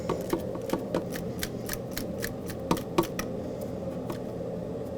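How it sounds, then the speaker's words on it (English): A hose clamp on a Volvo V70 heater hose is tightened with a series of quick, light ratcheting clicks, irregularly spaced and fairly close, over a low steady background hum. "let's snug up the clamp"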